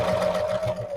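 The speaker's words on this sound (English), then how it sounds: "Just using a straight stitch, stitching as close to the edge as possible." Sewing machine running a straight stitch to attach a floral appliqué close to the fabric edge, a steady close whirring hum with a constant motor tone throughout, slightly easing at the end.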